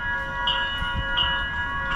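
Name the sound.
Siemens light rail train arriving at station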